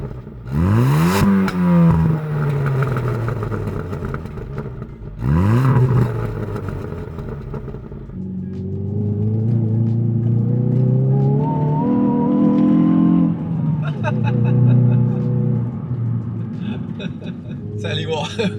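Hyundai i20N hot hatch engine heard while driving on a cold, frosty winter afternoon, with loud revving that climbs through the gears, brief drops between pulls, and a steady throaty drone later on, no talk over it.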